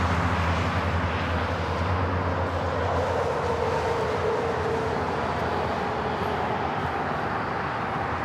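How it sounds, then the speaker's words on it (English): A Delta Airbus A321 on Flight 829 arriving at LAX from Salt Lake City, a broad steady jet roar that holds constant and loud, with no talk. "This is Delta 829 coming in from Salt Lake City on the A321."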